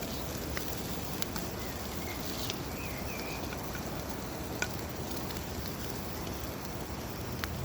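Garlic and pepper rubbed meat cooks with a soft, even sizzle and fine crackle that stays steady and fairly quiet, with a few faint clicks.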